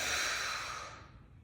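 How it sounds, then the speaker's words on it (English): A single long exhale during a neck and shoulder posture stretching exercise, a close, breathy rush of air that starts strong and gradually fades out over about a second and a half. "For 10, breathe out."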